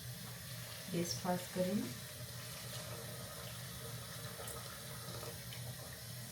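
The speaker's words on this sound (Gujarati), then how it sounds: "તો હવે આપણે દૂધીના શાકમાં પણ પાણી નાખી દઈએ" Water poured into a pan of simmering bottle gourd and potato curry gives a steady, soft splashing rush, with a voice speaking briefly near the start.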